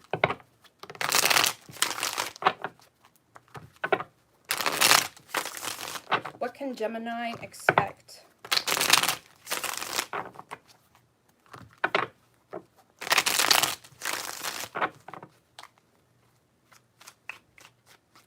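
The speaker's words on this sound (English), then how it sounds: "Actually, 4 more shuffles." A deck of tarot cards gets shuffled again and again in crisp, papery riffling bursts close to the microphone, separated by short pauses, while someone talks between them.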